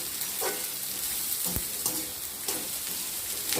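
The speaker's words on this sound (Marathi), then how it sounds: "आपण याला चांगल्या प्रकारे फ्राय करून घेऊया 2 मिनिटात." Veg Hakka noodles fry hard over a high gas flame, giving a steady, close sizzle with occasional soft clinks and scrapes of stirring. No one speaks.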